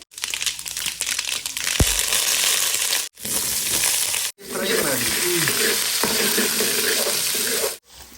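Chilli and mustard seeds fry in a pan with a loud, crackly sizzle, broken by a few brief silences and a sharp pop near the start.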